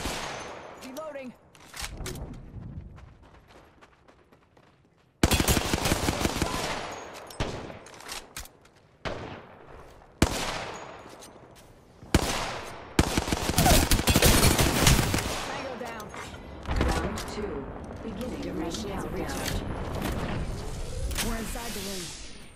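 Bursts of rapid automatic gunfire and single shots in a squad-based video game shooter, loud and close, arriving in clustered volleys after a quieter opening with short gaps between.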